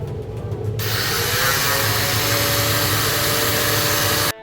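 An angle grinder cuts through a steel bar, starting abruptly with a loud, steady, harsh whine that holds for about three and a half seconds before cutting off sharply, with no voices.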